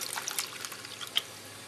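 Filtered water poured over a rice dish with salsa, a close, short splashing trickle that tapers off with a final drip.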